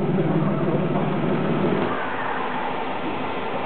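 A Dodge Magnum with a 5.7-litre Hemi V8 and an exhaust cutout revs hard at a car meet, a loud, dense, continuous roar that eases slightly after about two seconds.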